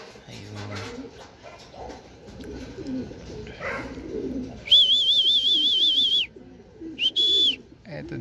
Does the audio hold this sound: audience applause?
no